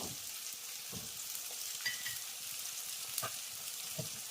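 Turmeric shaken into a frying pan of hot oil with ginger and chillies for Andhra-style boti curry, giving a steady close sizzle with a few soft stirring knocks and scrapes.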